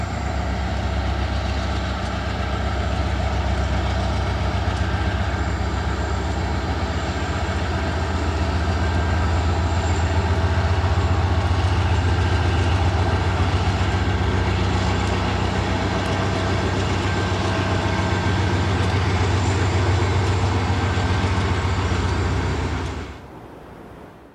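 Freight train led by a Southern Pacific AC4400 locomotive with Union Pacific and Chicago & North Western units rolling through Roseville, a heavy, steady diesel rumble with deep low drone holding loud and close before cutting off abruptly at the end.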